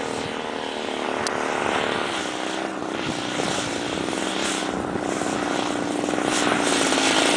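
A propeller airplane on landing approach, its engine droning loud and steady throughout, with broadband wind and airframe noise and no talk.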